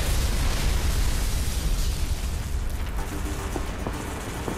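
A heavy explosion in the Saints Row The Third Remastered video game, a loud, dense rumbling blast that fills the first couple of seconds and slowly decays into debris and crackling.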